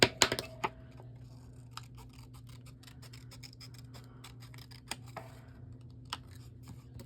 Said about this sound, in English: So I'm just going to cut this edge off here.